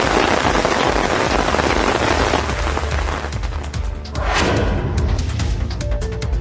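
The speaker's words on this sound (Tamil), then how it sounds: "நன்னிலம் உள்ளிட்ட பகுதிகளில் கனமழை பெய்தது." Heavy rain pours down steadily in a dense, loud wash of drops striking surfaces, briefly easing before building again, with no voices.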